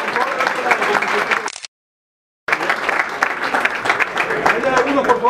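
Audience applause at a season launch event for the La Dolfina Sancor Seguros polo team, dense clapping broken by a short gap of silence, with voices mixed through the crowd noise.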